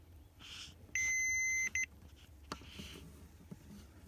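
Multimeter continuity beep while checking a piggyback fuse tap for a dashcam on a 2017 Jaguar F-Type R AWD: one steady electronic tone lasting under a second, then a short second beep, close and loud over quiet background.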